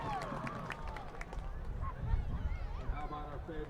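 A stadium crowd at a high school football game claps and cheers for the Camp Bow Wow dog mascot, a steady distant wash of applause and babble with an announcer's voice talking over it.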